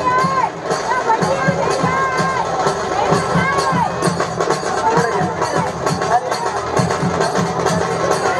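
Noisy crowd at a village wrestling match, a steady roar of many voices with shouts and cheers, and an announcer talking over it throughout.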